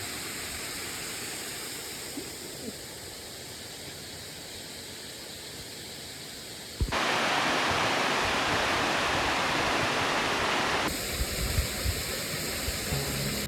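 Steady roar of a waterfall in Vietnam, loud broadband rushing water heard alone, growing brighter and fuller partway through as if moving closer to the falls.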